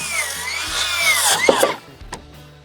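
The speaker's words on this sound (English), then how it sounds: "I can run my saw like this" Saw cutting a wooden block for wall framing, a close, loud whining cut that rises and shifts pitch for about two seconds, then winds down into quieter clatter.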